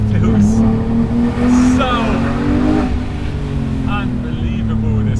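A Porsche 911 GT3 Touring's engine hums at high revs from inside the cabin, a steady loud drone with rising and falling pitch, while a person speaks briefly over it.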